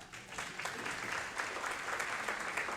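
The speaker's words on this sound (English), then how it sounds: "Give him a round of applause." Audience applause at a night church mission event, a steady wash of many hands clapping that fills the whole moment at a fairly even loudness, with no talk over it.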